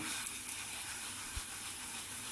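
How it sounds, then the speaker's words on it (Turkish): Potato rösti fries in a pan with a constant, close hiss of sizzling oil and no talk over it. "Burayı da böyle iyice kızartacağım."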